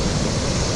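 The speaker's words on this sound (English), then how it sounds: "there's some really nice waves." Broad, steady roar of surf washing in, a continuous wash of ocean waves with no voices.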